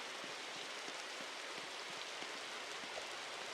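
Steady hiss of rain in the video game 99 Nights in the Forest, a soft, even wash of falling drops with faint scattered patters, quiet and continuous throughout.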